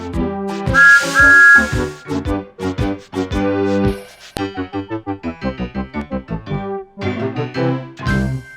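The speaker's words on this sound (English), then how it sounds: "Whistle, please." A bright, tuneful train whistle from the Thomas and Friends: Railway Adventures PC game, sounding loud and up close in a run of short melodic toots, first in a burst of longer blasts and then in a quick, evenly pulsed sequence.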